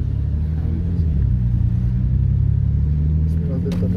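A Volkswagen Passat VR6 4x4 3.2 drives along with a steady low engine rumble and road hum filling the cabin, while people talk over it.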